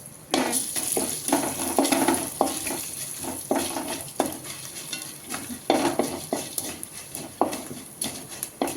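Coconut, poppy seeds and onion frying for Coimbatore-style sambar, stirred briskly in a pan with a spatula, a continuous close sizzle under rhythmic scraping strokes repeating about every half second, loud and steady.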